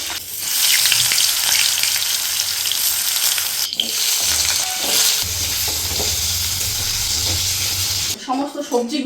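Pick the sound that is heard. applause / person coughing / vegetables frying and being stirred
vegetables frying and being stirred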